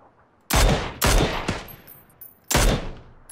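PUBG video game gunfire: four sharp, loud shots at uneven intervals, each with a quick decay and echo, with no talk over them.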